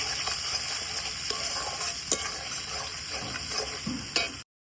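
Spices are stirred in a pan over a clay stove for an egg curry, giving a steady close frying sizzle broken by a few scraping knocks of the spoon on the pan, with no voices.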